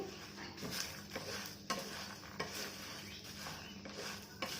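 Coriander seeds and stuffing spices roasting in a pan for stuffed lady's finger fry, with a soft steady sizzle and occasional scrape and clink of a stirring spoon against the pan, fairly quiet and close.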